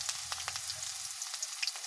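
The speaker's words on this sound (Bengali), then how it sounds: "এখন তেলের মধ্যে পেঁয়াজ, রসুনগুলা ছেড়ে দেবো।" Onion and garlic sizzling in hot oil in a home kitchen pan, a steady close crackle with brief scraping stirs, no voices.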